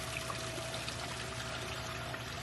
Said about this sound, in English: Generally, you don't get to see the water running here.